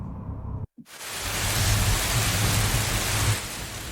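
Heavy storm outside the Eiffel Tower: after a brief silent gap, a dense, steady roar of rain swells in with low rumbling thunder beneath it, loud and continuous with no voices.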